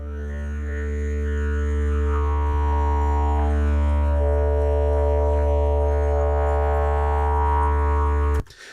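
A sample time-stretched to 400% of its original length becomes a steady, buzzy harmonic drone with slight warbling artifacts, holding for about eight seconds before cutting off abruptly.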